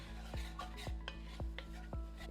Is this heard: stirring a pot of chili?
yes